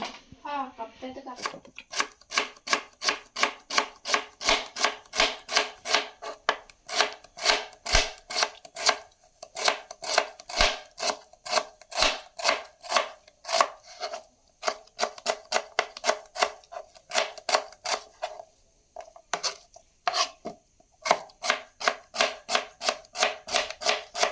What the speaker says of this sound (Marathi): चला आता कांदे कापूया